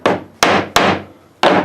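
Four loud, close hammer blows drive nails into a poplar board, each a sharp woody thwack with a brief resonant decay, struck at a slightly irregular pace.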